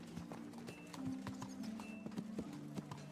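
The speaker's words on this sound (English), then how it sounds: "It's the horse." Horse hooves clip-clop at a steady walking pace in the medieval video game Kingdom Come: Deliverance, close and fairly clear over a low ambient background.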